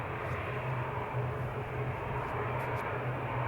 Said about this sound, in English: First heavy lineup is gonna be the A380, guys. It's already taxiing our way.